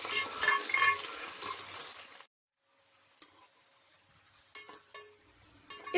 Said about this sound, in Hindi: उसके बाद हमने लगा दिया प्याज का तड़का,